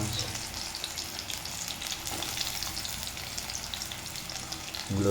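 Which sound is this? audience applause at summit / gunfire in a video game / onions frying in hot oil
onions frying in hot oil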